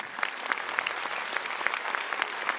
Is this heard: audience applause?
yes